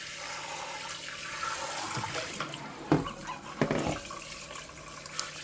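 Hot water runs from a tap over frozen smartphones, a soft, fairly quiet stream with a few louder splashes and knocks partway through.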